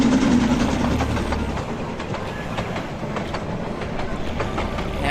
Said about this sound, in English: I like that there's a passing train, too.